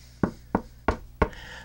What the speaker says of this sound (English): knocking on wood here